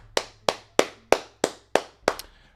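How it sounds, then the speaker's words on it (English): Seven sharp hand claps ring out in a steady, evenly spaced rhythm, close and crisp, with the last two coming slightly quicker together. "Clap it up."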